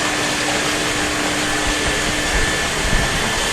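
Water rushes through a 3/4 inch pipeline after the valve is opened, a loud, steady, broadband hiss that carries on unbroken and unaccompanied.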